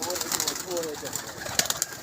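Pigeons cooing at a pigeon club, soft burbling calls close by mixed with fluttering and a voice talking over them in a brief stretch.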